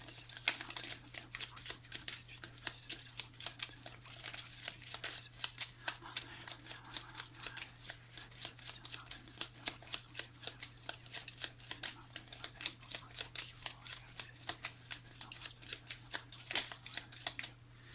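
Lenormand cards shuffled and turned over in a steady run of quick, soft crisp flicks and papery riffles, close and fairly quiet, with a low steady hum beneath.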